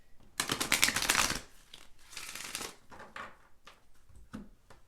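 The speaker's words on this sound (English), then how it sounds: "I'm going to shuffle." Oracle cards being shuffled by hand, close-up riffling bursts with a long first flurry, a second shorter run, then scattered soft taps and slides.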